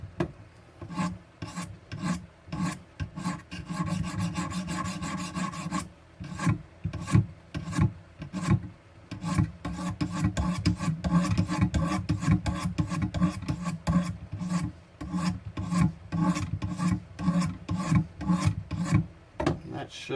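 A knife blade stroked against the stones of a Wicked Edge sharpener, a steady raspy scraping repeated in quick back-and-forth strokes, close and continuous with brief pauses.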